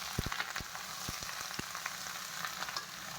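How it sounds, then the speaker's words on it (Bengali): Eggplant pieces fry in a pan with a quiet, steady sizzle, broken by several soft knocks and stirring sounds near the start. "একটা ভেজে এখন আমি বেগুনগুলো দিয়ে দেবো এর মধ্যে।"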